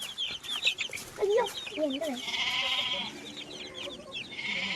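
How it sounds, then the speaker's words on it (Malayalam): Black Kadaknath chicks cluck and peep repeatedly at a farm park, with high chirping calls layered over lower clucks, close by and fairly loud. "ഇത് കരിങ്കോഴി കുഞ്ഞുങ്ങൾ"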